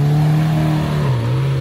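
A Lamborghini Murcielago engine roars close by, a loud steady low drone whose pitch dips slightly and then recovers.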